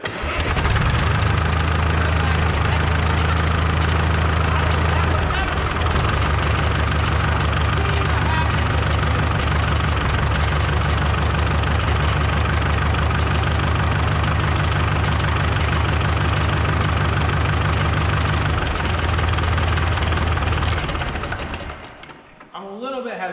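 A 1952 Caterpillar D2 crawler tractor's engine idles loud and close with a steady low throb for about twenty seconds before cutting off, and people talk over it.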